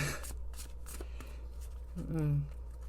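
A deck of money oracle cards gets a few quick riffling shuffles, close but soft, while someone speaks over it.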